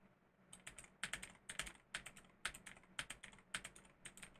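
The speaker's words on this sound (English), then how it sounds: "let's see what that sounds like when I type on the keys" Keys on a computer keyboard are tapped in quick, irregular bursts of sharp clicks, close and fairly quiet over a low steady hum, with no one talking.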